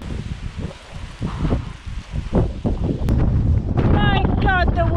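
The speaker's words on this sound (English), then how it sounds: "My God, the wind!" Strong wind buffeting the microphone on a coastal cliff hike at Las Negras in Cabo de Gata, a steady rushing roar with gusts that build louder toward the end, while a voice speaks briefly over it.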